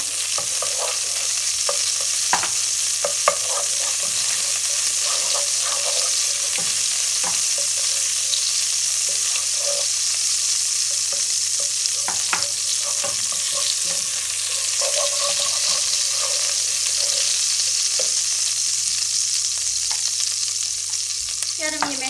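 Steady crackling sizzle of a spoonful of butter frying in a pot for Turkish chicken sauté, close and continuous, with occasional scraping clinks of a spoon stirring.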